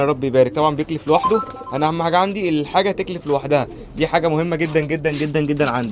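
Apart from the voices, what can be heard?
pigeons cooing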